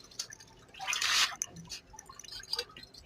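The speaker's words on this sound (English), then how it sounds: "And you just want to let it pour a little bit. This can end up leaving you with dripping pieces." Liquid pottery glaze drips and trickles off a freshly dipped bisque-fired pot, a soft spattering run of drops with no voices.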